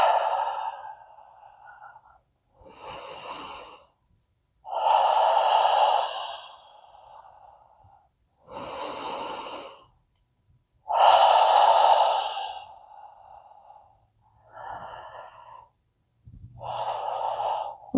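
Deep breaths during a chair yoga upper-body stretch: slow, loud inhales and exhales come close to the microphone in about seven separate breaths, with short quiet pauses between them.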